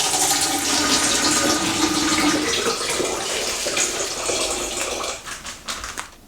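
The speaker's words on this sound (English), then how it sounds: "Pour your 5 litres of water into your glass jug." Five litres of water poured into a glass jug to make coffee brewing water: a continuous rushing, splashing stream that thins out and breaks up near the end.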